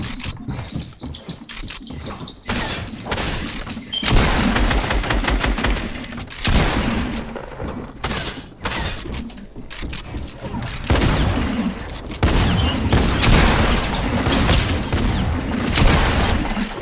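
A rapid-fire spamming gun in Fortnite blasts in repeated loud bursts, close and continuous, with brief pauses and mechanical clatter between volleys.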